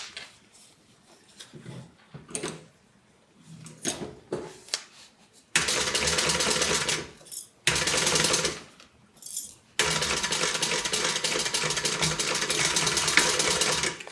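Sewing machine stitching a zipper onto a multi-compartment tote bag, short start-stop bursts of whirring stitches followed by longer steady runs, close and loud with no talk.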